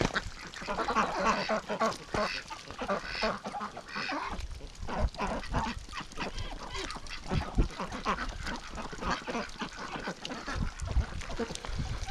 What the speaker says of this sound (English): Silly little ducks.